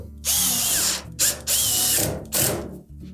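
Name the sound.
power drill driving screws into Samsung dryer bulkhead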